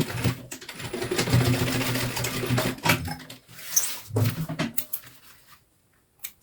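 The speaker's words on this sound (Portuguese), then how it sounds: "vou passar uma costurinha de segurança aqui" A sewing machine runs in short irregular bursts, putting a safety seam into a thermal cooler bag, with clicks and handling noises between the runs.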